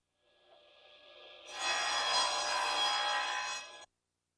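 A Sears Craftsman table saw from 1984 runs, then its blade bites into wood for about two seconds, a close, steady whirring that swells into a rougher cutting whine before stopping abruptly.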